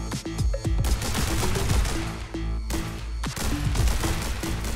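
Pistol gunfire in The Hong Kong Massacre top-down shooter, quick sharp shots ringing out over a steady game soundtrack, several in close succession with brief gaps.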